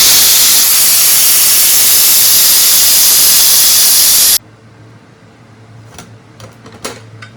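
A pressure cooker cooking beef gives a loud, steady steam whistle hiss for about four seconds, which then cuts off abruptly, leaving quiet kitchen noise with a low hum and a few faint clicks.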